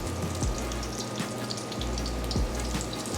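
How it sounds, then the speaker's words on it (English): Steady, hissing sizzle of food frying in a pan, continuous and fairly close, with a few soft thumps from low sounds of cooking. "You hear that sizzle?"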